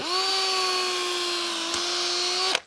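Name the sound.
power drill drilling holes in twigs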